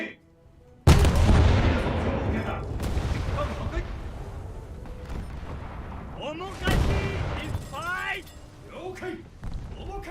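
Naval guns fire HE shells in a ship-combat video game. A sudden heavy boom opens, then a long rumbling decay, with another loud blast about two-thirds of the way through. Someone speaks under and between the shots.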